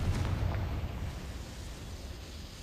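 A Confringo blasting spell going off in a Hogwarts video game, a loud close explosive burst with a deep rumbling tail that fades over a couple of seconds, no talk.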